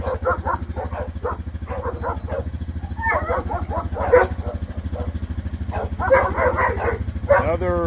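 Several dogs bark and yip repeatedly at close range, in short bursts across the clip, over a steady low engine-like rumble from a vehicle exhaust nearby.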